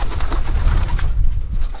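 Racing pigeons cooing close by, a few soft, throaty coos that run together over a low rumbling background, with no voices.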